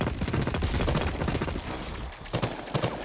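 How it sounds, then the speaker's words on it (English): Bursts of rapid gunfire in a video game, dense and loud at first, then thinning after a short lull into a few separate sharp shots. "Oh, somebody's shooting at that guy."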